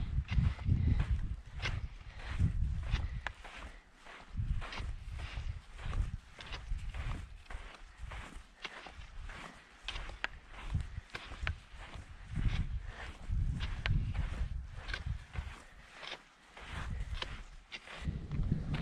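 Steady footsteps crunch on sandy ground along a creek trail in the Superstition Wilderness, in a regular rhythmic walking pace up close.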